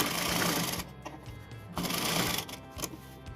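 A sewing machine stitches a long gown in loud, steady whirring runs, pausing briefly between bursts of stitching.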